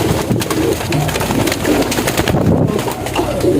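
A thin bird trapped inside a hole in a wall gives steady pigeon-like cooing calls, loud and close, over a busy low background.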